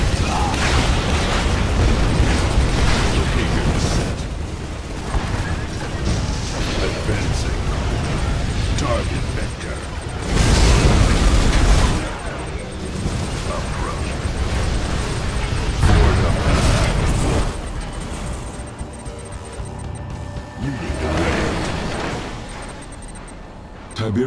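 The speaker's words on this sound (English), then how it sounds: "Torpedo explosion detected." Repeated booming explosions from the real-time strategy game Command & Conquer 3: Kane's Wrath, loud and dense in several heavy bursts, with in-game announcer voices over continuous battle noise.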